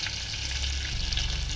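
A long-cut green chili sizzles in hot butter and oil, a close, continuous, even frying hiss lasting a moment with no voices.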